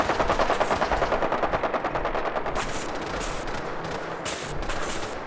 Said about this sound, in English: Laser turrets in Fallout 4 are the most crazily inaccurate thing in the world.